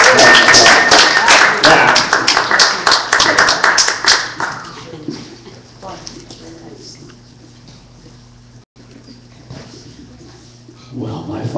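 Loud applause from an audience at a poetry reading for the first few seconds, then it fades out into quiet room sound, with a brief murmur near the end.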